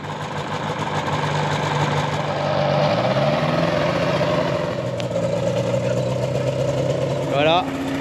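A small airplane engine runs steadily on a private airstrip at a property in Argentina, a loud, continuous droning hum whose pitch shifts partway through, with people talking over it.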